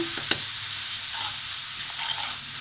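Hilsa curry (sorshe ilish) cooks in a pan as salt and turmeric are stirred in; a steady close sizzle runs throughout, opened by one sharp clack of the spoon.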